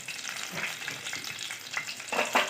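Oil sizzles and crackles in a hot pan still holding leftover oil from frying prawns for prawn malai curry, a steady close hiss with soft stirring scrapes and a brief louder burst near the end.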